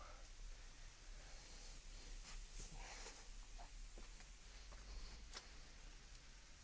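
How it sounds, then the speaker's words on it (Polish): Heavy rain in a forest hisses in a dense, even wash, with occasional soft rustles and drips standing out faintly. "leje deszcz jak cholera"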